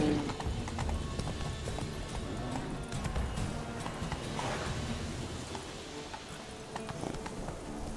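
Roach, Geralt's horse in The Witcher 3, gallops with a steady, continuous clip-clop of hooves under a dense game soundscape. A brief whinny may rise above the beat.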